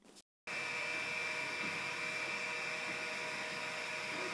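An Artillery Genius Pro 3D printer at work, a steady whirring hum with a sustained high motor whine, starting abruptly after a brief silence and staying constant and close.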